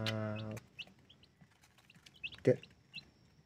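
Young chicks in a coop peck at feed and let out scattered high peeping chirps, with a brief low cluck at the start and another at the midpoint, quiet and close with no talk.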